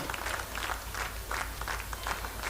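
A seated audience at a dance competition grand finale in Seppa claps in a continuous crackling patter, moderately distant and steady throughout.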